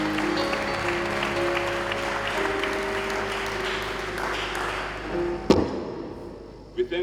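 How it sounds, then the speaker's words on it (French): Church congregation at a bilingual French-English service clapping together, a dense sustained patter of hands over a droning background that cuts off sharply near the end, followed by a couple of thumps. "Clap for Jesus Christ."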